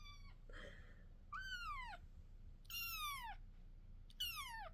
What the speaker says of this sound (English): I got my kitten in here, Henry, if you remember him from my videos.